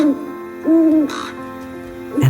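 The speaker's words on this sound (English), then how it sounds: "First an owl," An owl in a storybook scene hoots twice, each hoot a clear, near, sustained call with a gap between them, followed by a brief third note at the end.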